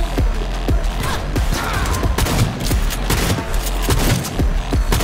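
Rapid shotgun blasts in the video game Cyberpunk 2077, loud booming shots in quick irregular succession amid a dense barrage of other gunfire and impacts, no talking.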